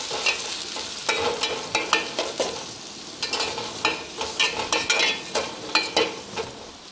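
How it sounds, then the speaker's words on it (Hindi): Chopped onions browning in a pan for a tinda and chicken salan, stirred with a utensil that scrapes in quick irregular strokes over a steady soft frying sizzle, close and clear with no talking. "पहले मैं इनको ब्राउन करूँगी इसमें। और इनको अच्छे से मिक्स करेंगे।"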